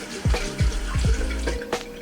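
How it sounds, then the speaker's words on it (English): A safety razor is rinsed under a running bathroom faucet, with a steady close stream of water and a few splashy bursts as the blade passes through the flow. "you can just rinse it off in the faucet."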